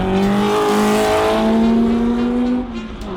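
A front-engined single-seater race car with a 2.5-litre IndyCar engine, racing at Spa, roars loud and close with a steady high engine note that climbs slightly before easing off as it passes.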